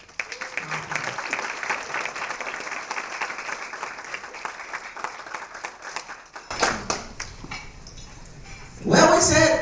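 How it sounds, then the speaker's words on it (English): An audience breaks into applause for an award recipient at an MLK Task Force Justice and Equity Awards ceremony, a brief burst of clapping after an announcer's voice and before louder, closer claps. "Let's give a great round of applause for the Honorable Judge Denise Langford"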